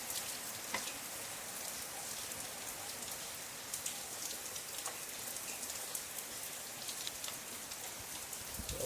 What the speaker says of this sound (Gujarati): સવાર સવારમાં વરસાદ પણ ગજબનો આવે છે